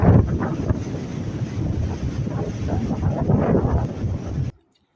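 Rough waves of the Arabian Sea off Oman roar in a steady, loud broadband rush with heavy wind buffeting the microphone, continuous for several seconds before cutting off abruptly near the end.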